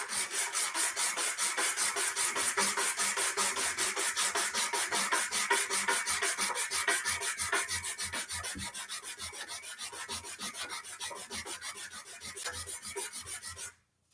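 Rhythmic back-and-forth rasp of 100 grit sandpaper worked by hand on a briar pipe, fast even strokes kept up without pause, close and alone, stopping abruptly at the end.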